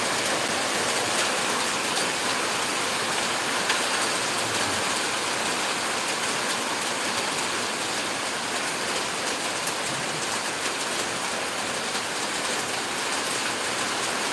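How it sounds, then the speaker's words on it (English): Steady rain drumming on a steel sheeting awning, a dense continuous patter close overhead with no talk, unbroken for the whole stretch. "We're just sitting here listening to the rain fall, and there's an awning with a steel sheeting"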